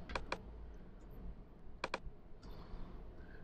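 Keys tapped on a computer keyboard while editing a snow scene project in Apple Motion 4: two quick pairs of close, crisp clicks, the first pair at the start and the second near the middle, followed by a faint later tap over quiet room hiss.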